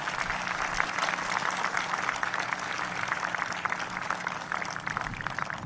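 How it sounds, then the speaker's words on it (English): A state legislature audience applauds a student during a governor's State of the State address, steady moderate clapping from a large room heard at a distance. "Let's give Brandon a round of applause tonight."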